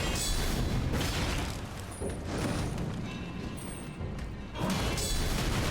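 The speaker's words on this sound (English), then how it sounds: "Oh, now he's throwing bombs at me too." Bombs thrown by an enemy in Elden Ring go off as heavy, rumbling booms that fill the mix, loud and dense over several seconds with a short dip before another blast swells back, layered with game noise.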